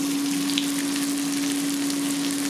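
Pieces of Provoleta cheese hit a preheated pan of hot oil and fry with a steady, dense sizzle that stays loud and even throughout, accompanied by a constant low hum.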